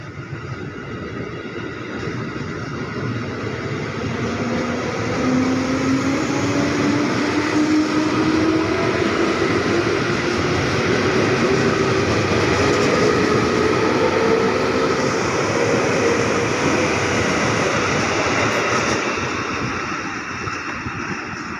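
A KRL Commuter Line electric train pulls out of busy Manggarai station in Indonesia, a loud sustained roar and rumble with a slowly rising motor whine as it gathers speed, heard close and without voices.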